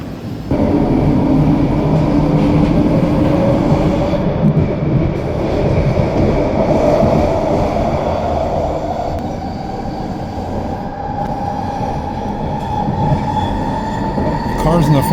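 A westbound train on an electric railway rolls steadily past close by, a loud continuous rumble of wheels and cars with a faint squeal rising over it, and no talking.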